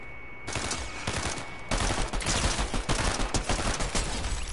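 Rapid pistol fire in Fortnite, a dense string of loud close shots rattling off quickly, with a brief pause before a heavier barrage continues.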